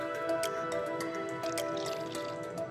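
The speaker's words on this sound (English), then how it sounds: "I'm gonna put the water in now" Water poured into a bowl for air protein egg pasta dough, a continuous liquid splashing and trickling with small drips, close and fairly loud, no talking.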